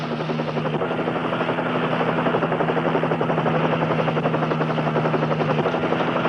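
A police helicopter flies overhead during a highway patrol kidnapping pursuit, its steady rotor drone and buzzing engine hum holding loud and constant throughout with no voices.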